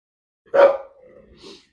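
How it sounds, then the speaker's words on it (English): A dog gives one close, loud bark that trails into a softer drawn-out whine with a faint yip at the end, heard alone while someone fits spotlights to a car. "Oh, shut up, dog."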